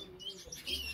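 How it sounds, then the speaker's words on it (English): Gouldian finches in an aviary chirping, a few soft high tweets close by over quiet background, brief and faint. "Gouldian finches, they've been squawking all day, sticking their heads out of here"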